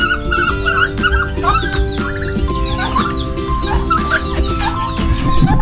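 Several Texas gamefowl chickens cluck and call over a busy farmyard din, with other birds chirping and a dog barking now and then, steady and close.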